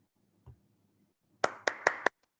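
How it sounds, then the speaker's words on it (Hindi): Online audience members unmute and clap during a Hindi poetry day event: four distinct loud claps, fairly close, after a brief faint thump and quiet background. "अब अनम्यूट करके एक बार जोर की तालियां बजा दो"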